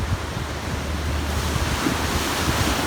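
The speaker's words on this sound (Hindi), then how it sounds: "पानी की जो लहरें हैं यहाँ पर बहुत प्रेशर और तेज़ी से आके जो है यहाँ किनारे पे टकराती हैं।" Sea waves pound the shore at Manora Beach, a loud, continuous surging roar mixed with wind buffeting the microphone, with no voices.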